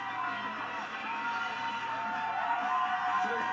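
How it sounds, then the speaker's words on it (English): Studio audience at a game show cheering and applauding, a dense steady roar of crowd noise filling the space without pause. "Give her a big round of applause"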